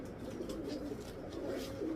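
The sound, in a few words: pigeon cooing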